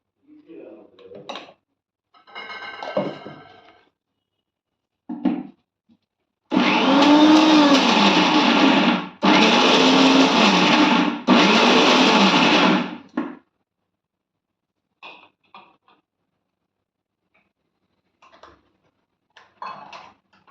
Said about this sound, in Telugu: మంచిగా మిక్సీలో వేసుకుని గ్రైండ్ చేసుకుందాం